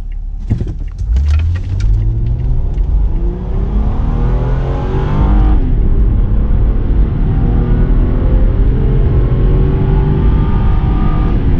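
A Hyundai ix55 with a 3.8-litre V6 engine is started and throttled hard, rising into a loud, sustained rev with a rumbling exhaust note close to the microphone.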